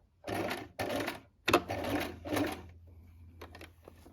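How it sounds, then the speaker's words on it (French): Domestic sewing machine with a size 70 universal needle sewing a fabric Christmas tree ornament, running in several short bursts of fast stitching that stop and start as it sews back and forth, close and fairly loud. "Et vous faites bien des points avant-arrière au niveau des pointes pour renforcer votre couture."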